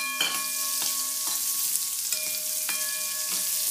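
Chopped onions sizzling in hot oil in a pan for tomato sambar, a steady close frying hiss with several sharp stirring scrapes at an even rhythm, no voices.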